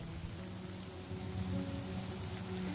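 Steady rainfall hissing over surfaces in the game Honkai Star Rail, an even broadband wash with a faint low hum underneath.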